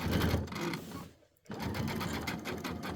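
A home sewing machine stitching in the ditch on a quilt, running in a fast steady mechanical whir that stops briefly for a moment of near silence, then resumes at the same close, loud pace.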